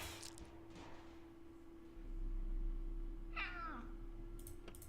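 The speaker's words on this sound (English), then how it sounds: "The cat is actually driving me nuts." Meowing from a cat in a video game, heard as a short, clear cry near the middle of the clip over a steady low game hum, with no talk.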